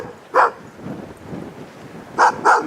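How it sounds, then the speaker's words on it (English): A dog barks sharply nearby, one bark followed by a pause, then two quick barks, with light wind noise between. "Ginger, barking like crazy."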